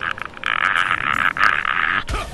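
Frogs croaking in the video game Diablo 3, a dense, continuous chorus of raspy croaks pulsing in quick bursts, loud and close, ending with a low thud.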